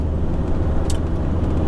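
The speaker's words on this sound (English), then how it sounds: "Let's see if I can get my van out of the car park" Van engine and road rumble heard from inside as it drives out of a car park in Bastia, Corsica, a steady low drone with a brief hiss partway through.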